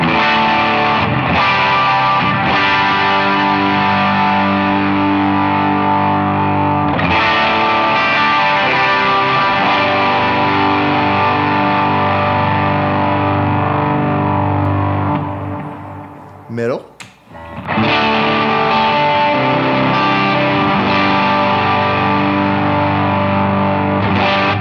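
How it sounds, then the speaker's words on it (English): Electric guitar with a Veritas Custom Minimaster on the bridge pickup, driven through a Timmy overdrive pedal, plays loud, sustained, overdriven chords and riffs that stop briefly near the end before resuming. "bridge position. This is a Timmy."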